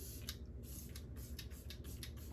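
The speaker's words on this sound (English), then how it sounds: "you mist it on. It goes on and dries very quickly. Spray it liberally" Harry's post-shave mist with botanical extracts is sprayed in a series of short, crisp hissing bursts, about eight evenly spaced pumps, close and fairly quiet.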